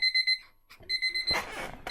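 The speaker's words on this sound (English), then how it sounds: "That's my timer, so I'm out of time" A timer alarm sounds in bursts of sharp, high electronic beeps, a quick rhythmic run of several tones, then a pause and another run, with a short rustle at the end.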